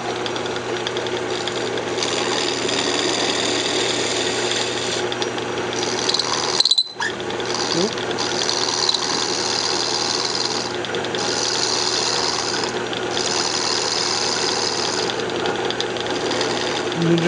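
A wood lathe spins a flower blank while it is trued up, giving a steady, close motor whir with a faint rhythmic knock that runs throughout, broken by one brief dip partway through.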